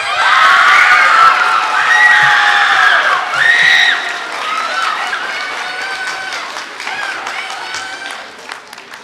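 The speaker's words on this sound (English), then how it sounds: "Please give a big round of applause to Miss Haley Gomez." Junior high audience at a spring school band concert breaks into loud applause mixed with cheering, whoops and children shouting, steady and close at first, then tapering slightly while scattered clapping carries on.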